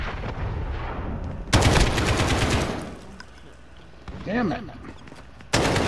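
Bursts of automatic and single gunfire in Modern Warfare multiplayer, loud and close, coming in heavy volleys with pauses between them, while a player's voice talks over the shooting.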